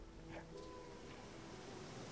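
Rushing river in Gothic 2 gameplay, a faint, steady watery wash with a windy hiss, continuous and distant, with small tonal blips over it.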